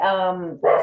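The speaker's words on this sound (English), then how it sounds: "I'm really sorry for my dogs." Household dogs sound off during a board of trustees meeting call: a drawn-out, whining bark with falling pitch, a short break, then another loud bark close to the microphone.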